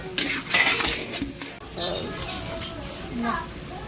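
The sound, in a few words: sautéing ground beef in a pan for spaghetti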